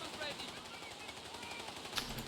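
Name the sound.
machine gun fire in Company of Heroes 3 video game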